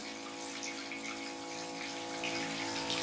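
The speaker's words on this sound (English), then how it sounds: "You do your business, you come over to wash your hands" Tap water runs steadily into a small van sink as hands are washed, a constant close hiss with no talking.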